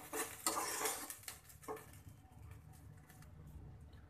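Green peas and dal are stirred and fried in a pan, with a metal spoon scraping and clinking against the pan in quick bursts, then softer sizzling and patter, close and fairly quiet.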